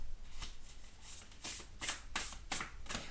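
A deck of oracle cards is shuffled by hand in quick riffling bursts, about six crisp flutters in a few seconds, close and clear with no talking.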